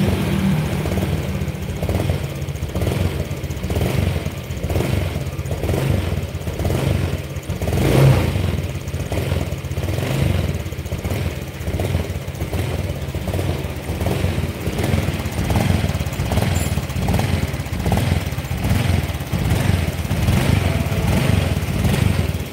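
A cold Honda Vario scooter engine revs hard and unevenly, a loud, clattering, buzzy roar that surges and sputters close by throughout, with no talk.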